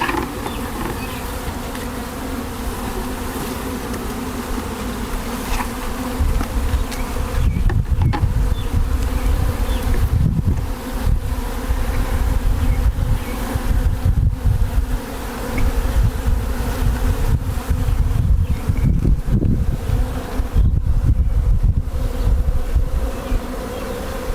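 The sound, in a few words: honeybees buzzing around an open hive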